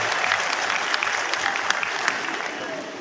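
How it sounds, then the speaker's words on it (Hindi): Crowd applause at a political gathering in Balaghat, steady and dense throughout, a continuous wash of many hands clapping with no break. "इसमें वैज्ञानिकों के लिए प्रधानमंत्री के लिए तालियां बजाकर स्वागत करें।"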